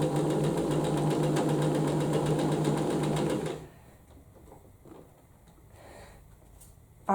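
A sewing machine runs steadily for about three and a half seconds while stitching a beginner's cushion cover, then stops, leaving quiet room noise and faint handling sounds.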